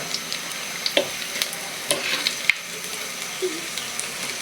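Coriander leaf fritters fry in hot oil with a soft, steady sizzle broken by scattered sharp pops and crackles, fairly faint and close, with no talking.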